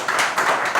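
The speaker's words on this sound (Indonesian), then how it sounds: "Kita kasih tepuk tangan kepada beliau." A short burst of audience clapping greets a sports committee official on a Jakarta talk show, brisk and close.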